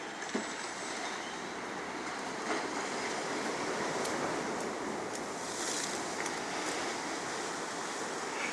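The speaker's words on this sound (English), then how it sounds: "just seeing here the proximity next to the waves breaking" Steady roar of sea waves breaking against the sea wall at Dawlish during extreme weather, with continuous surf and wind noise close by, no voices.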